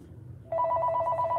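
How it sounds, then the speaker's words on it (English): A telephone bell rings close and loud, a rapid trilling ring starting suddenly after a quiet moment. "phone is ringing"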